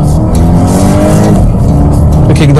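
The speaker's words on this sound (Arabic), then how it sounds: "الكيك داون تمام." A Volvo in sport mode accelerates hard under kickdown, its engine roaring loudly and steadily as the revs climb, with road and tyre noise underneath.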